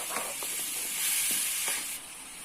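Grated carrots sautéing in ghee, a soft continuous sizzle and hiss with a few faint scraping stirs, close and moderately quiet, with no voices.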